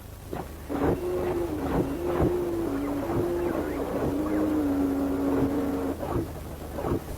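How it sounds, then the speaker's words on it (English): Deep mechanical rumbling from a swarm of robot dogs on the move, with sustained whirring drones and repeated heavy thumps, steady and fairly loud throughout. "their mechanical movements and operating sounds."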